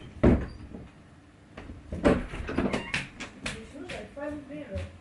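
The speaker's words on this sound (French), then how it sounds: "Non mais frère, tu ouvres comme ça ta porte." An apartment door being opened, with a sharp knock and clatter at the start and further handle and latch rattles, while people talk nearby.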